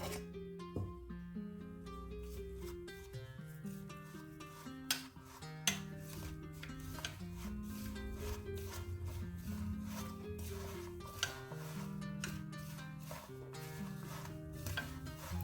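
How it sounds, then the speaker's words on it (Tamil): Hot ghee is poured into a moong dal mixture and stirred in a pan, giving quiet scraping and stirring sounds with light clinks, steady and close. "நெய் நல்ல சூடாக இருக்குது. ஒரு பக்கமாக ஊற்றிக்கலாம்."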